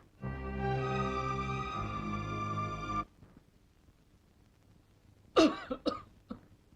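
A long droning tone holds for a few seconds, then a couple of sharp, close coughs break the quiet.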